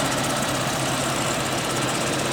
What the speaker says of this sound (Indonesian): Ini mesin